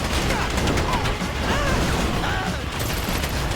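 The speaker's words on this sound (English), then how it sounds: "You hear that gunfire?" Dense, continuous crackle of rapid gunfire in GTA V during a bank heist fills the whole stretch, loud and chaotic, with a voice faintly mixed in beneath.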